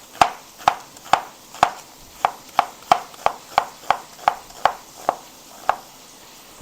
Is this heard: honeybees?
no